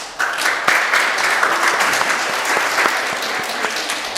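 A church congregation claps steadily to welcome a newcomer during a Korean service, a full, even round of applause lasting several seconds with no talking over it.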